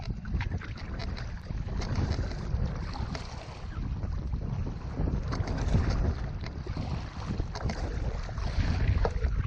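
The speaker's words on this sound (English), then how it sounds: "Still a bit on the windy side." Strong wind buffets the microphone with a constant low roar, accompanied by water lapping and sloshing against a small packraft on open water in the Avalon Wilderness Reserve.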